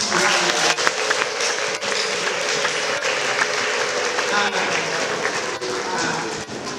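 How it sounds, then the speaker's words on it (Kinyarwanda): A church congregation at a Christmas service breaks into sustained applause, a dense, even wash of clapping that continues for several seconds with voices mixed in. "dushimire Imana tuyikomera amashyi"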